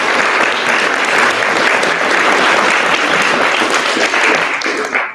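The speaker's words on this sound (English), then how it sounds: "Can we give a huge round of applause to your teachers?" Sustained, loud applause from a high school awards ceremony audience thanking the teachers, a dense wash of clapping that holds steady for about five seconds before tapering off at the end.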